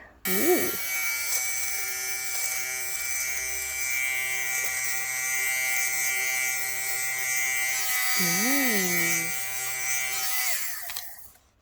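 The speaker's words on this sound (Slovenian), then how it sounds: "Dajmo probati, kak ta shaver, ta brivnik deluje." A battery-powered electric shaver with a protective cap runs continuously in a quiet room, a steady close buzzing hum with a couple of brief pitch-wobbling sounds near the start and end, no speech.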